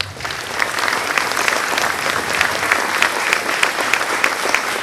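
Audience at a school winter band concert claps steadily for band supporters, a full, even burst of applause that starts quickly and carries on loud and unbroken.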